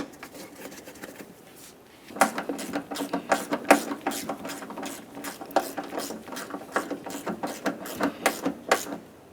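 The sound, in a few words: tightening a 10mm mounting bolt on a truck fender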